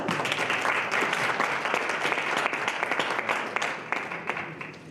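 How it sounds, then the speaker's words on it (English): A crowd applauds steadily throughout, a dense wash of clapping with a few sharper claps standing out, loud and sustained from start to finish. "Can we please give him a round of applause?"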